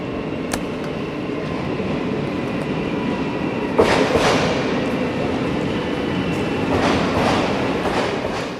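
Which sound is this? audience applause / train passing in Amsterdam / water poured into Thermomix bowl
train passing in Amsterdam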